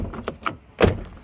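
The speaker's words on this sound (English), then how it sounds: "the door is closing a bit too snug" A Chevrolet C3500 truck door shuts after a hinge repair, giving one fairly loud, close thunk near the end. A few lighter knocks and rattles come before it.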